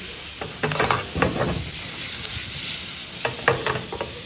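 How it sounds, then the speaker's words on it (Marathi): Onion sizzles and fries in a hot pan for a Marathi-style methi matar malai gravy, a steady close hiss broken by scraping stirs. "आपण इथं कांदा टाकून घेतोय आणि कांदा मध्ये भाजायला सुरू असेल"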